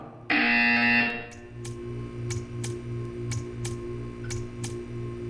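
A loud, harsh buzzer from the video game Portal 2 blares for about a second and stops. After it comes a low pulsing hum with faint, regular ticking clicks.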